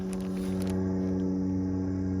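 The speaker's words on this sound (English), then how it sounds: "sorry about the plane overhead" An airplane passes overhead above a garden during flower planting, heard as a steady low droning hum that holds evenly throughout.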